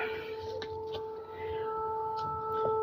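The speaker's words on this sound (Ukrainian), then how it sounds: "І, звісно, сирена не дає нам спокійно жити, любити, радіти життю кожного дня" A steady, wailing air raid siren holds a constant tone in the distance over a country garden plot in autumn, with faint background noises around it.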